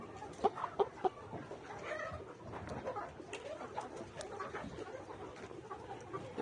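Pullet hens on a poultry farm cluck busily throughout, several birds overlapping in uneven, close bursts with a few sharper calls standing out near the start.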